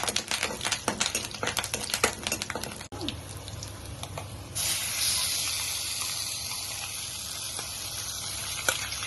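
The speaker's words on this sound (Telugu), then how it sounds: "ఎల్లిపాయలు జీలకర్ర ఆవాలు వేస్తున్నా" Garlic, cumin and mustard seeds sizzling in hot oil, first a dense crackle of sharp popping seeds, then after one loud thump a steady, bright, continuous hiss, close and alone.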